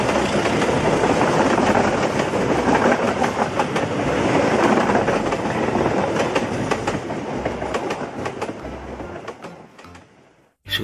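An old executive KRL commuter train passes close by, loud rumbling with rhythmic clickety-clack of wheels on rails, holding steady before fading out at the end.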